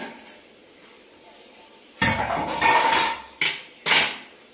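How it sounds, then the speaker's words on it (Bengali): Lid lifted off a pot of steamed kodom pitha, giving a few sharp metallic clanks and clatters, the loudest near the start and two more knocks after, with no talk. "আমি ঢাকনাটা খুলে দেখবো আমাদের পিঠাটা হয়েছে কিনা"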